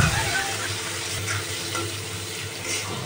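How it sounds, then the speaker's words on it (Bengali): Chopped onion and sliced garlic frying in oil left from frying dried lotia fish, a steady close sizzle with a low hum underneath and no talking. "শুটকি ভাজা তেলের মধ্যে আমি পেঁয়াজ কুচি আর রসুনের ফালি দিয়ে দিচ্ছি"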